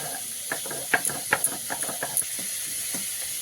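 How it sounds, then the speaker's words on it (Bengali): Ginger and garlic ground together by hand, a gritty rhythmic scraping and knocking at a steady pace, close and fairly quiet over a constant hiss, with no talking. "এই যে আদা রসুনটা আমি একসঙ্গেই বেটে নিচ্ছি"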